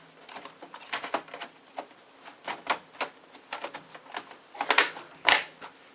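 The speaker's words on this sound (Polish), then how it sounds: "teraz jeszcze zamontować trzeba klawiaturę" Irregular plastic clicks and snaps as the keyboard is mounted into a Dell Vostro 1540 laptop, scattered over several seconds with a few louder snaps near the end.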